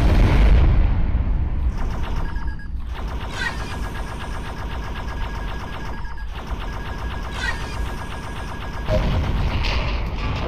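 Spaceship weapons firing in the VR space combat game Endspace, a sustained mechanical barrage with repeated rapid pulses and booming bursts, loud and continuous with brief pauses.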